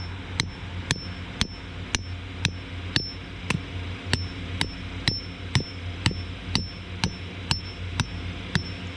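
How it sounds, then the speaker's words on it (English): Steady, evenly spaced hammer blows drive a stake into the ground for a Halloween inflatable, about two per second, each a sharp metallic strike against a low background rumble. "I'm going to take the hammer and I'm going to start hitting it in"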